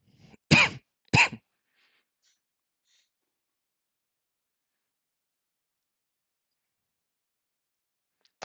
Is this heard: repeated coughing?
yes